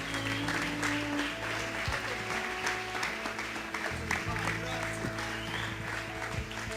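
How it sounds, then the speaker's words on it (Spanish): A church congregation applauds together in a steady wash of clapping, heard at moderate distance with voices and a low sustained tone running underneath. "¿podemos terminar dándole un aplauso al Señor?"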